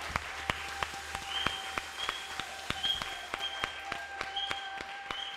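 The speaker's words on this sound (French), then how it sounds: "tu vas l'applaudir très fort" A church congregation applauds at a family gathering service, with sharp rhythmic claps and a sustained tonal hum beneath them, moderately loud and continuous.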